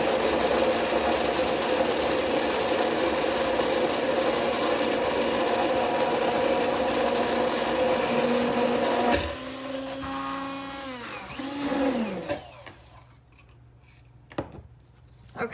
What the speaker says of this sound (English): I'm going to blend it until it whips up.